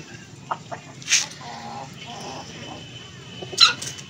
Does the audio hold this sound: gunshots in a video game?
no